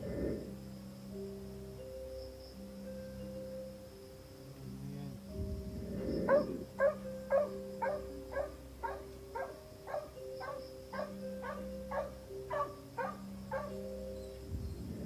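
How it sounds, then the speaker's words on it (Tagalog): A dog barks repeatedly in a steady rhythmic series at a tree outdoors, moderately close, over a faint background hum and drone. "Nagtataka ang nagbi-video kung bakit tahol ng tahol ang aso sa taas ng puno kahit wala namang naroon"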